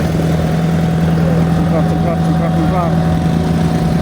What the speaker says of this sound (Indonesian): Mesin giling